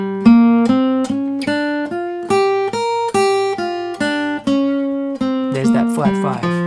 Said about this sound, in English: So the blues scale is the same as the pentatonic, the minor pentatonic scale, but it has a flat 5th added, so it sounds like this.